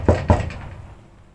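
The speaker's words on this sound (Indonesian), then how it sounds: "Tiba-tiba pintu rumahku diketuk." Two firm knocks on a house door, close and loud, each with a boomy thud that rings out and fades into a lingering decay; no voices.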